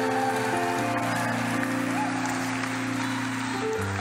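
A church congregation claps together as a clap offering, a dense, steady wash of applause over sustained musical tones, lasting the whole stretch without a break.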